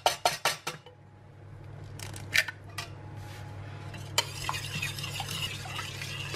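An egg is mixed into chocolate pudding batter, with quick clinking strikes of utensil on bowl at the start, then scraping and stirring with a few more taps, over a steady low hum.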